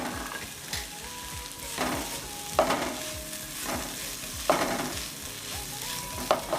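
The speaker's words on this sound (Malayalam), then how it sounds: "ഇനി നമുക്ക് പൊടിച്ച് വെച്ച ഇറച്ചി ഇതിലേക്ക് ഇട്ട് കൊടുക്കാം." Ground meat tipped into a hot pan and stirred while preparing chicken bucket, a steady close sizzle with repeated scraping stirs and soft clinks of a spoon against the pan, no talking.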